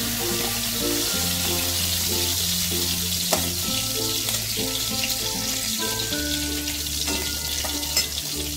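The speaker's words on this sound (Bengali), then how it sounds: "আগে বাকি মাছ আছে সেগুলোকেও ভেজে নিয়ে আসছি" Amudi fish frying in hot oil, a steady dense sizzle throughout with faint stirring clicks and occasional spatters, close and alone with no speech.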